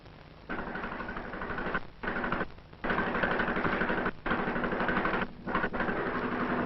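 A motor pump in 1949 Morocco runs with a steady mechanical hum and a rapid rhythmic chug, continuously, cutting out briefly several times before resuming.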